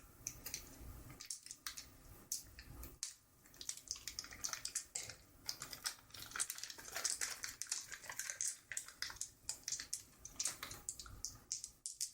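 Tape on a Pathfinder Adventure card game box being cut open in a quiet soft-spoken unboxing: a dense run of close, crisp scratching, crinkling and small clicks, irregular and fairly soft, with no talking.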